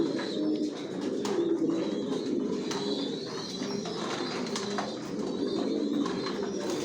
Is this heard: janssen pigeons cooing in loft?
yes